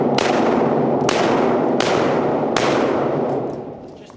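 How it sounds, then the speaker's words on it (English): Rifle shots fired while moving, the shooter stepping between rounds: four loud, sharp reports about three quarters of a second apart, each with a long reverberant tail, close and alone. "So I'm moving and shooting. I take the half step."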